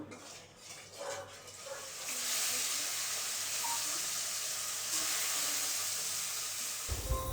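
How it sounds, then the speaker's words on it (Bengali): Rohu fish pieces fry on low heat in a pan, pressed down as they cook, giving a steady close sizzle and hiss that swells after a couple of seconds and holds, with no talk. "মাছগুলো আমি একটু চাপা দিয়ে দিয়ে ভাজি, আর কম আঁচে আঁচে ভাজি"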